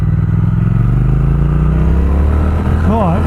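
Triumph Speed Twin motorcycle engine pulling hard at high revs in one gear, a loud, close, continuous rising growl that swells near the end.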